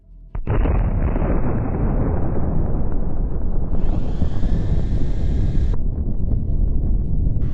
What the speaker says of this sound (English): After the explosion, we see that there is absolutely nothing left of the target.